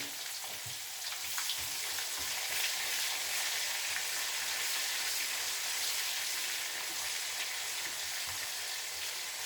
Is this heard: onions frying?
yes